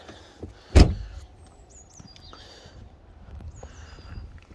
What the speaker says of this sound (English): come and open your bonnet here